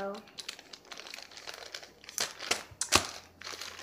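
A plastic bag crinkles and rustles close by in uneven bursts, with a few sharper crackles, while a young voice talks briefly at the start.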